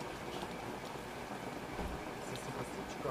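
Hail falling from the sky makes a dense, continuous patter of ice striking surfaces nearby. The clatter stays steady and fairly loud throughout, with no voices.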